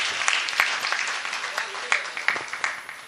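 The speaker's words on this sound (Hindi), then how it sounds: "एक बार बेबाक साहब के लिए तालियां जरूर बजाएं आप" Audience clapping at an Urdu poetry mushaira, a dense burst of applause with sharp individual claps that slowly thins out toward the end.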